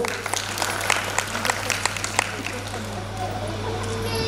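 Audience applause breaks out at a women's festival prize ceremony as first prize is handed out: many hands clapping steadily at close range, fading toward the end, with voices underneath.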